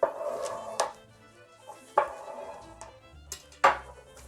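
A knife slices through paper while paper pots are being made, giving a few sharp, separate cutting strokes spaced a second or more apart, close and fairly quiet, with soft rustling between them.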